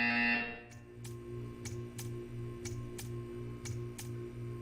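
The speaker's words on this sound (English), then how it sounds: "You will hear a buzzer. When you hear the buzzer, stare at the art." A Portal 2 buzzer sounds as a low droning hum with sharp, evenly spaced ticks over it, steady and fairly close, after a brief higher tone at the start.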